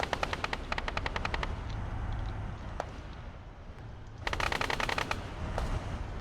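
Automatic gunfire in the military video game Arma 3, rapid bursts of rattling shots in two long stretches with a single isolated crack between, over a constant low rumble of battlefield noise.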